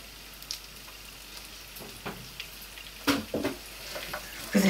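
Vegetables for a vegetable curry frying in vegetable oil in a pan, a soft steady sizzle broken by a few short scraping stirs that grow louder toward the end, with no talking.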